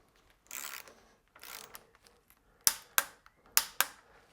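Torque wrench fitted with a T40 bit tightening bolts on a BMW motorcycle during exhaust flap and servo removal work: soft ratcheting passes, then four sharp clicks in two pairs, close and fairly quiet, with no talk.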